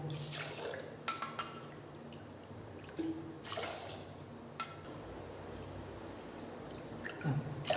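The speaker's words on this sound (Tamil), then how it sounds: "நாலு கப் தண்ணி சேர்த்து வச்சுங்க" Water is poured into a pressure cooker holding rice and lentils for curry leaf pongal, with a few splashy bursts and drips in between against a quiet kitchen background.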